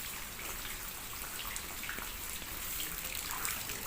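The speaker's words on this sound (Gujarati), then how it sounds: "જો અહીંથી પાણી બહાર જાય છે બજારમાં." Rainwater drains out of a small home garden toward the street as a soft, steady rushing trickle, faint and unbroken throughout.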